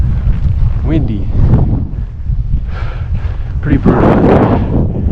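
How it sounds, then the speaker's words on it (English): Heavy mountain wind near Chamonix buffets and roars across the microphone in gusts, with a voice briefly speaking underneath. "Windy."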